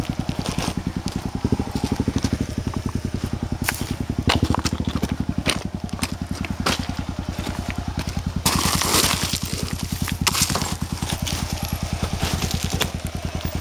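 A Kawasaki KLR dual-sport motorcycle's single-cylinder engine thumps in a fast, even pulse up close on a trail, the throttle blipped and rising briefly partway through amid some rattling and wind.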